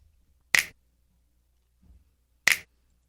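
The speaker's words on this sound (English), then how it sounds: "Right here I have a snap sound." Two crisp finger snaps, isolated and evenly spaced about two seconds apart in a quiet room, with a faint soft rustle between them.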